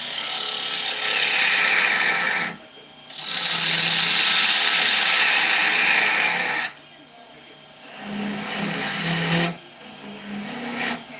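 Wood lathe turning a spinning top with its stem already formed, so it vibrates heavily: loud steady hissing whir in long bursts separated by brief pauses, with a low hum and a voice speaking briefly in the gaps.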